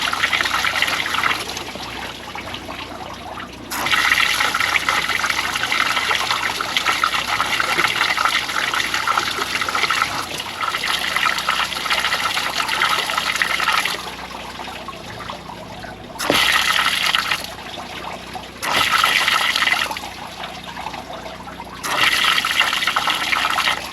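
Water being flushed through the heater core hose of a Ram 2500 truck: pressurized rushing and gushing in long surges that stop and restart several times, loud and close.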